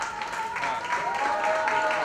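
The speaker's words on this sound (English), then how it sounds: "Please, a very big warm round of applause." Applause from the audience at a book launch evening, a steady broadband wash of clapping heard alongside faint voices and a thin tone running through the middle.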